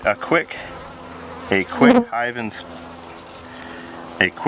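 Honeybees buzz steadily inside an open beehive, a continuous close drone while a person talks over it in short bursts.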